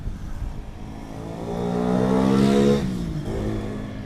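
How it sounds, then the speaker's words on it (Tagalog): A motorcycle engine cranks and catches after a jump starter is connected, rising to a loud revving swell before settling back to a rough idle, heard close up. "Tingnan natin kung magsa-start yung motor."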